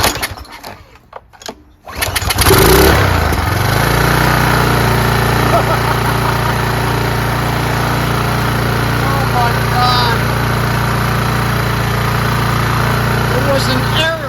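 A Troy-Bilt pressure washer engine with a newly installed carburetor fires up after a couple of seconds of quiet handling noises, then runs steadily at a loud, even drone close by for the rest of the clip.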